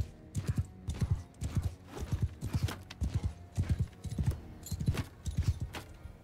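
Horse hooves clip-clop in a steady galloping rhythm in the game Mount & Blade II: Bannerlord, close and distinct, repeating evenly throughout with no talk.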